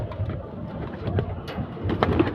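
Pigeons coo in a loft, with several soft low burbling calls close by over a busy rustling background.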